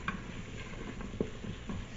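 Soft scraping and light sizzling as onions are stirred around a pressure cooker pot, with a few brief clicks and taps, fairly quiet.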